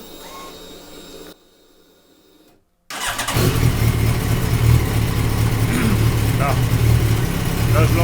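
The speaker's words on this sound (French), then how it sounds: "Donc je démarre la moto" A motorcycle engine cranks and catches, a brief pause falling into near silence before the engine bursts into a loud, steady running rumble close by.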